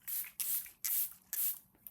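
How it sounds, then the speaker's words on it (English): Makeup finishing spray spritzed over the face, three close, airy hissing bursts in steady rhythm with short gaps between them and no talking. "I'm just going to do a quick spritz of that over the face"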